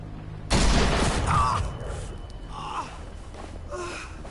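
A single loud gunshot with a booming, decaying tail rings out in The Walking Dead game, followed by gasps and breathy vocal sounds.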